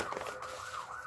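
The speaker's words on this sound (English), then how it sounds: "lots of sirens tonight" Emergency sirens wail outdoors at night, a steady rising and falling tone carried from a distance, continuous and moderately faint with no talk.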